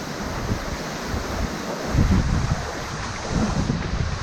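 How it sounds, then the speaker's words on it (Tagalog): Strong wind gusting at Marambibit Falls, a dense continuous rush with heavy low buffeting against the microphone and the roar of falling water beneath, close and loud, no talk. "Ang lakas ng hangin."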